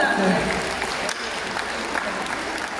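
A crowd claps steadily and fairly loudly at a Women's Day event, a dense patter of many hands with a voice briefly heard over it.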